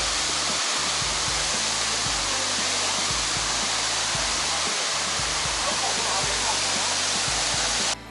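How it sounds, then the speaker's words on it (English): Shifen Waterfall in Taiwan, seen in the low water season, roars as a constant broadband rush of falling water, loud and unbroken until a sudden drop at the very end. "We stopped by the Shifen waterfall, which is a pretty good waterfall."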